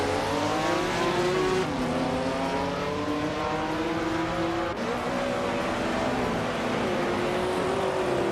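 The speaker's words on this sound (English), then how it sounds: "Deezerts is driving a 1969 Chevrolet Camaro Door 1" A 1969 Chevrolet Camaro race car in a racing video game, its engine roaring loud and steady, with pitch climbing through gears and dropping at shifts, plus hints of tire squeal.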